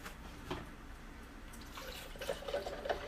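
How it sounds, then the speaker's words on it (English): Milk poured into a blender bottle holding a wire aerator ball, a soft steady trickling and splashing of liquid, fairly quiet and close, with brief gurgles as it fills toward the line. "I'm going to go ahead and fill my milk to the line"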